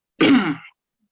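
A single throaty cough-like clearing of the throat, close and fairly loud, lasting about half a second, followed by silence.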